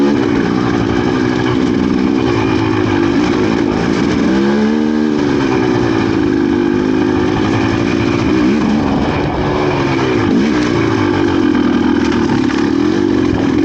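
A GPX TSE300 motorcycle runs smoothly while it is ridden on a cold, dry, slick road. Its engine keeps up a close, even drone with a couple of gentle rises and dips in revs, and no one speaks.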